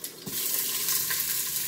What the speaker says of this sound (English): All right, you can hear the sizzle.